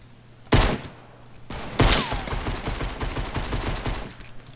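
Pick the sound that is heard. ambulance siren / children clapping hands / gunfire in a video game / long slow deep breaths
gunfire in a video game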